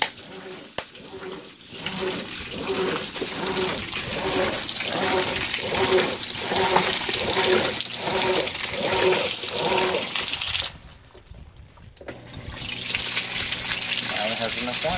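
Whirlpool Cabrio washing machine fills with water in a rhythmic gushing pattern of repeated surges, close and moderately loud, briefly pausing before the flow resumes; a voice is faintly present.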